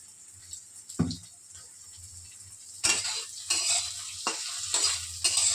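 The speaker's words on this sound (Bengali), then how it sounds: "দেখুন আমার পনির ভাজাটা হয়ে গেছে" Paneer frying in peanut oil, with soft intermittent sizzling and several sharp clatters of a utensil stirring and scraping the pan, louder bursts in the second half.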